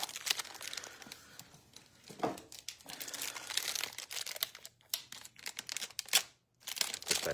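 Tape is peeled and torn off telescope accessory packaging in quick crackly bursts mixed with crinkling plastic, close and fairly quiet, with short pauses between pulls.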